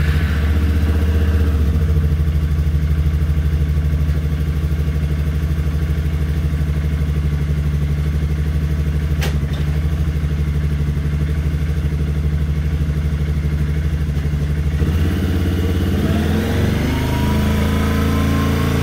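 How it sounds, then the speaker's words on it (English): A Suzuki KingQuad ATV engine idles steadily and close by, a continuous low mechanical drone with faint clatter, and its note shifts near the end. "engine's been idling now for 3 or 4 minutes"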